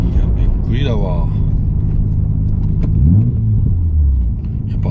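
A four-door Nissan Skyline GT-R Autech Version with an RB26 engine idles with a steady low rumble and a brief rev, close by, while someone talks over it.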